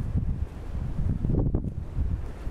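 Strong wind roars and buffets against the microphone in a steady, rumbling blast, with gusts surging and easing, no voices.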